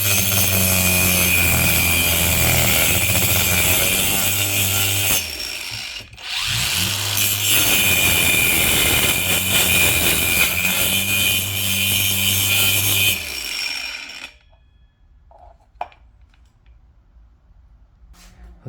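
An angle grinder cuts through a piece of wood held by hand in a home garage, giving a loud, harsh, continuous whine and rasp that briefly dips once before stopping, then faint quiet remains.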